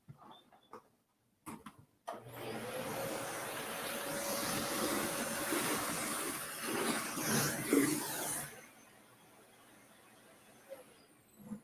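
A small vacuum cleaner picks up dried stencil mud mess from a craft project, switching on with a whooshing hiss that runs steadily for about six seconds before cutting off, preceded by a few light knocks.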